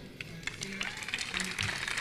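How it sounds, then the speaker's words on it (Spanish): Scattered clapping from an audience at a talk on video game programming, mixed with murmuring voices, moderately loud and lively for a couple of seconds. "Les pido un fuerte aplauso, por favor."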